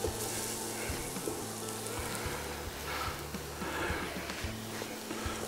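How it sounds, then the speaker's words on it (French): Flour-coated beef pieces browning in a hot pan for a beef miroton, giving a steady close sizzle with faint stirring and scraping throughout, no voices. "On laisse cuire, enfin cuire, on laisse revenir encore une minute ou deux."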